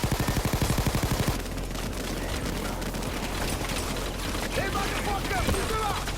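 Rapid gunfire from a Bulldozer enemy's minigun in the video game Payday 2: a fast, loud burst of repeated shots at the start, then dense game noise and rumbling combat behind it.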